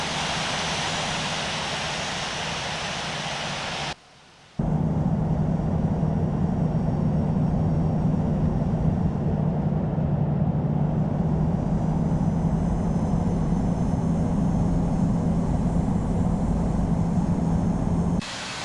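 Boeing 747-200 taxiing in the Infinite Flight simulator, a steady droning jet hum with a low whine, briefly cut out near the start before resuming, continuous and fairly loud with no voices.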